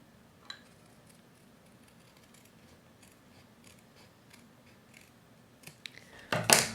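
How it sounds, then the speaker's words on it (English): Faint, sparse snips of scissors slicing paper in a quiet room, irregular short cuts, ending with a louder rustle. "actually probably scissors will work on here"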